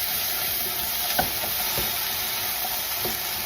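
Chopped tomato stirred into vegetables frying for kids' veggie noodles, a steady loud sizzle throughout with a few soft spatula scrapes and knocks against the pan.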